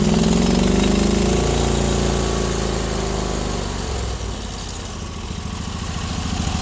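Small engine of a Sears garden tractor running rough, a loud continuous uneven idle with a lumpy, stumbling pulse throughout, slightly dipping partway then steadying.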